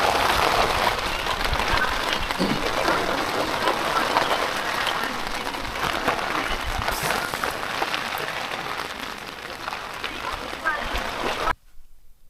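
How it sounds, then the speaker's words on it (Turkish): Dense, steady downpour of heavy rain during a storm at a campsite, roaring throughout, with water splashing loudly; it cuts off abruptly near the end. "Bugün buraya fena yağmur var"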